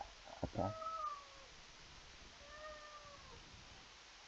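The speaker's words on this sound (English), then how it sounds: "Oh, hey cat. Cat, please stop, cat." A cat meows twice, a short close mew followed by a longer drawn-out cry, over faint background noise and a few soft bumps.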